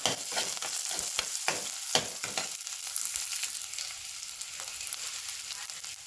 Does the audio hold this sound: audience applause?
no